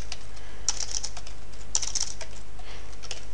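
Keys clatter on a computer keyboard in quick irregular bursts while someone enters an equation in Mathematica, close and crisp over a low steady room hum.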